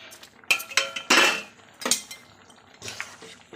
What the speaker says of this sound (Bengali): এখন আমি এই যে ভাজা ডালের বড়িগুলো দিয়ে দিচ্ছি।